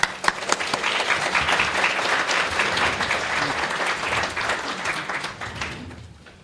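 A lecture audience applauds in welcome, dense and steady clapping filling the room at a constant level before it thins out at the very end.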